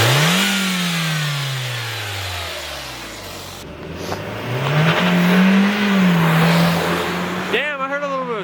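A Hyundai Veloster Turbo engine with a Go Fast Bits blow-off valve revs up and falls back, then rises again in a second rev, with people talking nearby.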